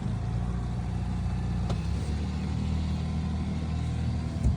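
Small outboard motor on a dinghy beside a catamaran, running with a steady, close, low engine drone throughout without pause.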